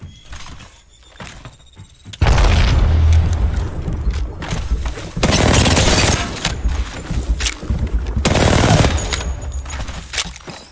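An Arc Star grenade explodes in Apex Legends: loud, crackling bursts of electrical blast noise arrive in several heavy waves, mixed with rapid gunfire and close, harsh impacts.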